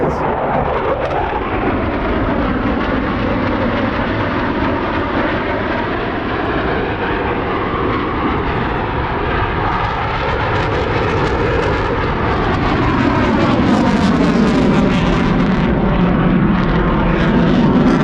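A fixed-wing airplane at an air show passes overhead, heard from a boat, with a loud continuous engine roar that swells and shifts in pitch as it flies by, building to a stronger wash of noise near the end.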